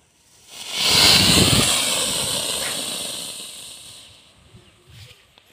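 A small homemade rocket engine ignites with a rising roar, then a loud rushing hiss that holds for about three seconds before fading out, heard from a short distance outdoors.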